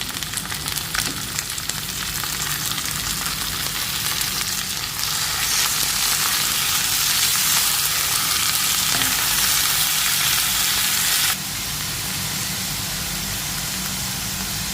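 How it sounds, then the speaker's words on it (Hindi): Minced keema hissing and frying with pink-browned onions in a pan, a steady loud broadband sizzle that swells midway and then settles a little lower, with no voices. "ये देखिए, ओनियन हमारा पिंक होना शुरू हो गया है, बहुत प्यारा कलर आया है। तो इसमें अब हम कीमा ऐड कर देंगे।"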